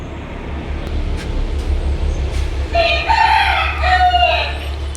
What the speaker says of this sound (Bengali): তোমার মুরগি কি পরিমাণ চিল্লাইতেছে